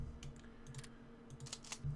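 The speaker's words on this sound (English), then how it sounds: "My keyboard's behind my microphone right now. It's very difficult to type." Keyboard typing in a few short irregular bursts of clacks, close and fairly quiet, with the keyboard sitting behind the microphone and no talking.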